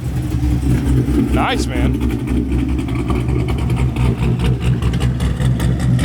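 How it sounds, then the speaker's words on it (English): Chevrolet Camaro at a supercar meet idling with a lumpy, choppy lope and a brief rev, close and loud, with someone speaking briefly over it and crowd noise around. "This Camaro sounded good. Listen to that chop."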